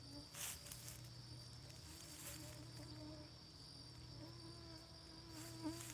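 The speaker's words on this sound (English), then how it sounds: "oh my gosh, there's so many mosquitoes" Mosquitoes and other insects buzz steadily around a person outdoors in a Florida garden, a thin continuous drone close to the ear with brief louder passes near the start and end.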